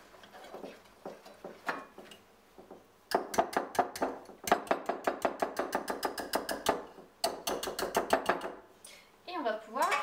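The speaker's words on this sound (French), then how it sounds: "On va la remuer avec le fouet." A whisk beats chilled white chocolate pastry cream in a bowl: a few scattered taps, then a fast, steady run of close, sharp strokes with brief breaks, ending as a voice speaks.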